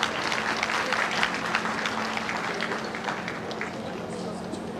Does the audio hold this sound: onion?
no